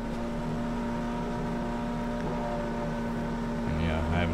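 Engines drone steadily and fairly loudly together, then swell and rise in the last second as if revving up.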